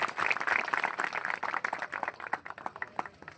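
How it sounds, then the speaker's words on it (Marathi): Applause from an audience welcoming a farmer at a gathering in Chandur Bazar, honoured for a yield of 36 tonnes per acre: dense, steady clapping that fades a little toward the end. "त्याबद्दल सर्वांनी त्यांचं टाळ्या घेऊन स्वागत करावं"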